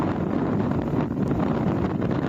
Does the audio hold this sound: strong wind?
yes